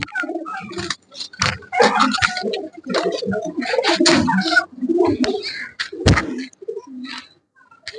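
Pigeons coo repeatedly at close range, a busy mix of low throaty calls with occasional flutters and bumps.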